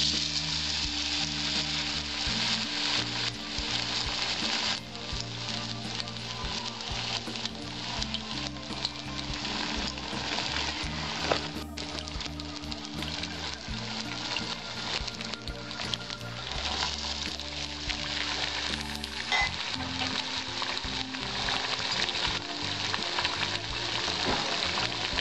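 Battered banana flower fritters, coated in a rice-flour batter, fry in hot oil with a steady, dense sizzle that carries throughout, accompanied by faint background music-like tones.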